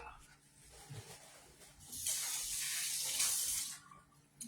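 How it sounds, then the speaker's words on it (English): Hands rinsed under a running kitchen tap, a hissing rush of water for about two seconds after some quieter handling sounds, with a voice speaking nearby. "let me rinse my hand real quick"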